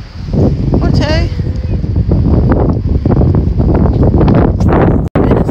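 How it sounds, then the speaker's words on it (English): Loud, blustery wind buffeting the microphone in a constant low roar, with people talking faintly underneath and a brief dropout near the end. "It is so windy out here."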